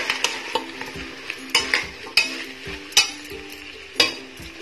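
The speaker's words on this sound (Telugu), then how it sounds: "టమాటా ముక్కలు కూడా వేసుకుని కాసేపు మగ్గించాలి." Vegetables and tomato pieces cooking in a pan for biryani, with a soft steady sizzle under regular sharp scrapes and clinks of a spoon stirring against the pan, close up and without speech.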